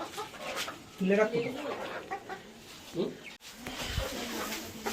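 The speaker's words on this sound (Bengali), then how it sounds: "যেই মুহূর্তে খাঁচা থেকে মুরগি ছাড়া হবে" Chickens clucking and chattering nearby as they are released from a cage into a new coop, with bursts of short calls over a busy background and some talking mixed in.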